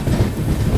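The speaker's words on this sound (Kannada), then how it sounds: "ಗೋವಾ ಎಕ್ಸ್ಪ್ರೆಸ್ ಬಂದೈತ್ರಿ ಈಗ ಘಟಪ್ರಭಾಕ್ಕೆ" The Goa Express train pulling into Ghataprabha station, a loud close rumble of rolling wagons with rhythmic low thumps from the wheels, steady and alone.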